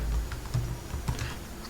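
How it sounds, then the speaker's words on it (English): Quick, light clicking of keys on a computer keyboard, a short burst of irregular taps heard close and fairly soft, with no voices. "Let me type that."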